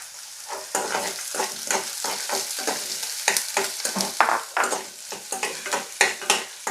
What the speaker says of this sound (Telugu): శనగపప్పు నానెట్టుకొని శనగపప్పు అయితే వేసుకుంటున్నాము చూడండి